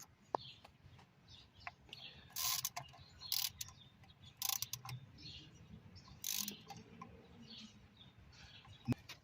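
A hand ratchet tightens oil cooler bolts on a Dodge Challenger, with bursts of rapid clicking separated by pauses and small metallic knocks, close up with no talking.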